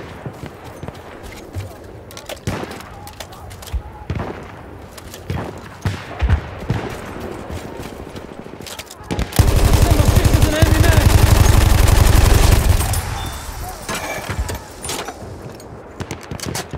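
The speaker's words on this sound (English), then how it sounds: "Machine gun!" A Parabellum MG14/17 machine gun in Battlefield 1's Argonne Forest unloads a loud, rapid, sustained burst lasting about three seconds. Scattered single shots and battle noise surround it, with game voices calling out.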